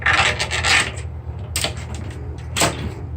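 A plastic zip-it drain cleaner strip is pushed down past a drain flange, giving a few close scraping rasps with quiet gaps between them.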